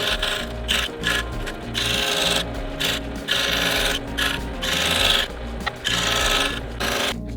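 HDF parts with paper templates attached are being cut out, producing close, loud buzzing, rasping bursts that start and stop in an uneven rhythm, with no talking.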